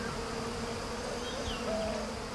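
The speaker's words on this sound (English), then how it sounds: "The giant cliff bee." Giant cliff honeybees swarm a hive built on exposed mountain rock, making a dense, continuous buzzing drone that holds steady throughout, with no talk.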